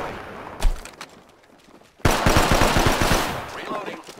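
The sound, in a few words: gunfire in the video game Apex Legends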